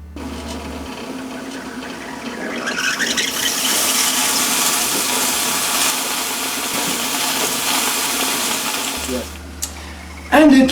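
An electric kettle boiling water builds over several seconds to a steady, loud broadband rumble and hiss that holds, then cuts off with a click near the end.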